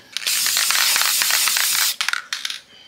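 Aerosol can of workable fixative acrylic coating sprayed onto laser engravings, a close, loud continuous hiss lasting about two seconds, followed by a few short spurts and faint rattles.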